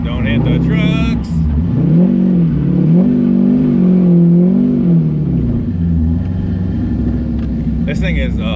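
A 500-horsepower C5 Corvette accelerating, its engine droning and swelling in pitch with a heavy low rumble, with a voice speaking over it.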